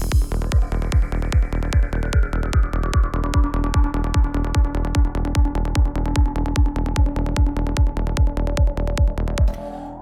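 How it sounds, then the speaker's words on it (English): Trippy psytrance atmosphere from an Arturia MiniFreak synthesizer, a loud driving pattern of evenly spaced pulsing kicks under sustained, slowly gliding synth tones, running steadily for ten seconds without voices. "it has this atmosphere that I've created with the MiniFreak V1"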